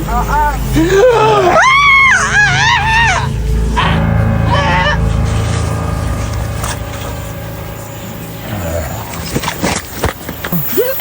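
A person screams in loud, wavering cries in a Filipino horror comedy skit, followed by raised voices and noisy background chatter.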